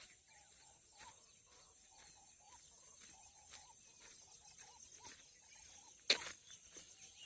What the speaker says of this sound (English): there are so many birds talking with each other